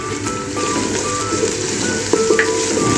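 Ginger garlic paste frying lightly in a pan for beef nihari gives off a steady close sizzle with faint crackles and pops throughout, no talking.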